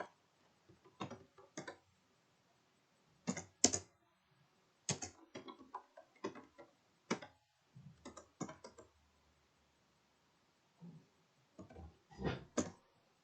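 Code is typed on a computer keyboard in a programming lab session, with short bursts of close, crisp key clicks separated by pauses and no talking.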